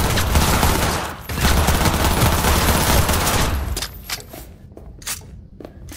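Dense rapid gunfire from the video game Cyberpunk 2077, a sustained loud burst of shots that breaks off into scattered footsteps and scraping, no voices.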